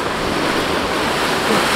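A sailboat runs fast at about 14-15 knots through waves with the wind around 55 to 60 degrees apparent, giving a loud, continuous rush of water and wind noise buffeting the microphone, with no distinct breaks.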